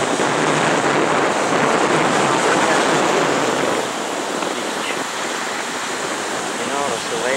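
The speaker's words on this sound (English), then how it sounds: "You notice the waves are coming in because it's low tide." Ocean waves rolling in at a beach, a loud continuous wash of surf and wind-blown roar filling the whole stretch, with no clear individual breaks.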